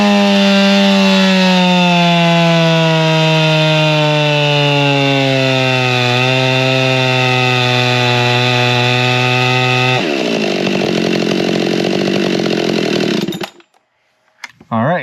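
Husqvarna 572XP chainsaw with a modified factory muffler cutting wood, a loud close high-revving whine that drops in pitch under load, then shifts and cuts off near the end.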